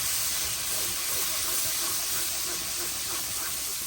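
Carrot paste frying in ghee with semolina, a steady close hiss and sizzle that holds evenly throughout, with soft stirring scrapes underneath.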